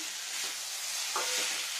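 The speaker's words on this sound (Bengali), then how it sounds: "দেখুন টমেটোটা কি সুন্দর ফ্রাই হয়ে গেল, সয়াবিনটাও ফ্রাই হয়ে গেছে, ডাটাটাও ফ্রাই হয়ে গেছে" Tomato, soybean chunks and bottle gourd stalks fry in a pan with a steady, soft sizzle and a brief stirring scrape, with no voices.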